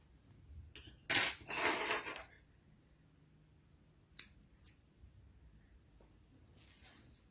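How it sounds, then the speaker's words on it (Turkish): Scissors cutting crochet yarn, a brief close snip-and-rasp burst followed by a few faint clicks in an otherwise quiet room. "Şimdi diğer renk ipimi alıyorum. Bunu da kesiyorum."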